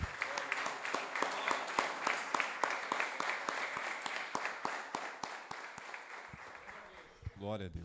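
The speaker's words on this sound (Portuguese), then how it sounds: "Você pode aplaudir o Senhor bem forte." A church congregation claps loudly in a steady rhythmic beat at a worship service, the sharp claps close and continuous, with a voice rising at the end as the applause fades.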